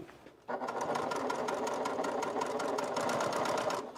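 Sewing machine stitching faux leather for a bag, a steady fast whir of needle strokes starting after a brief quiet moment and running loud and continuous to the end.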